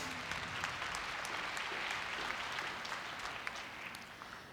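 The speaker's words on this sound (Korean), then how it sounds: "다시 한번 큰 박수 부탁드립니다." A seated audience claps at a Korea University 2016 entrance ceremony after a scholarship award, a dense, even stretch of many hands clapping at moderate distance, trailing off slightly at the end.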